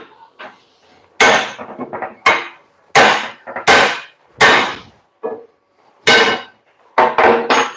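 Hammer striking a metal punch on a Nissan MT 3000 leaf spring, about ten loud sharp metallic clangs close up in an irregular rhythm, each ringing briefly before the next, with short quiet gaps.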